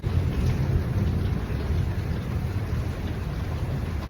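Steady heavy rain pours all around with a deep rumble of thunder underneath, loud and continuous throughout with no voices.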